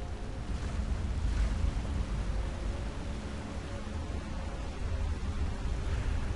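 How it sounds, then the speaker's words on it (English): Steady broadband rushing of flowing water in the video game Skyrim, continuous and fairly loud with no pauses, like a stream or surf ambience. "As you can see, you can hear the water."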